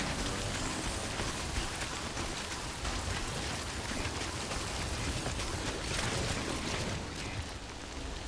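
Steady, dense rain from the video game Death Stranding pours down without pause, a loud, even hiss of drops hitting surfaces with no voices over it.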